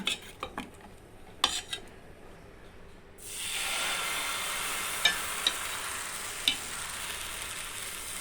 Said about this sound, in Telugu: దోశని చక్కగా ఇలా వేసేసుకోవటమేనండి